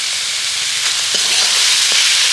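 A spice mixture with potato frying in mustard oil sizzles loudly and steadily in a pan, with a few soft stirring scrapes, close up and without talk.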